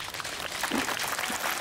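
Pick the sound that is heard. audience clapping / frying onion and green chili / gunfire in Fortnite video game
audience clapping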